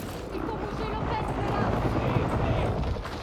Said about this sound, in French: L'hélico revient vers vous.